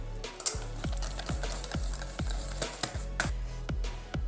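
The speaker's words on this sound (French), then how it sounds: "Et je vais fouetter." Vanilla extract whisked into cupcake batter in a bowl, a steady scraping stir with regular sharp taps of the whisk against the bowl roughly every half second, close and fairly quiet.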